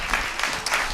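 Congregation clapping hands together during a church service, a brief burst of soft, rapid clapping heard from a distance.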